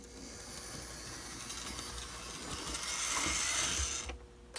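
A small model steam locomotive runs with a soft, continuous mechanical hiss and faint clicking, rising slightly before cutting off.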